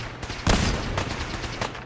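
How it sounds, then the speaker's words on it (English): Turret gunfire in Fallout 4 in the Glowing Sea: a loud burst of rapid automatic shots starts abruptly and rattles on with repeated sharp cracks, dense and close. "There's also a turret up there."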